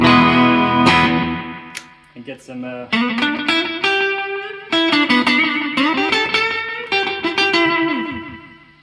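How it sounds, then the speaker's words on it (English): An HH Electronic Digital Multi Echo pedal set to its longest delay, processing distorted electric guitar notes whose repeats trail well behind each one, with a voice speaking briefly over the playing. "Let's go on the longest space of time on the echo between the original note and the repeat, and let's give it the longest delay"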